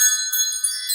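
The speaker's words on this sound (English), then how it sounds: "let's call in spirit with a little bit of wind chime time" Wind chimes ring in a short, bright shimmer of overlapping metallic tones that sustain and shimmer without pause.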